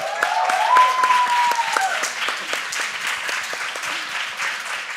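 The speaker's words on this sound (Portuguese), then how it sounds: "Uma salva de palmas." An audience at a breast cancer clinical research talk applauds, with a steady patter of many clapping hands throughout, loud and close, while faint voices and a brief tone sound early on.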